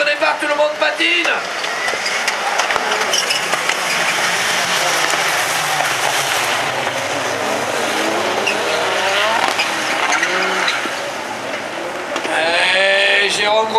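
Rallycross race cars spinning their wheels at the start of a French championship final at Dreux, loud revving engines and squealing tires in a dense roar, with a commentator talking over it.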